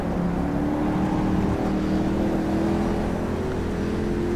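Panoz Roadster race car engine in rFactor 2 video game, loud, close continuous engine drone with steady tonal harmonics, holding at high revs without pause.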